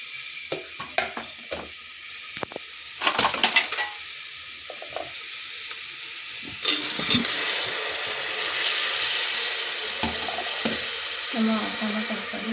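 Tomato goes into a pan where peas and fenugreek are frying. A soft steady sizzle runs throughout, broken by clattering stirs and bumps, and light voice sounds sit faintly underneath.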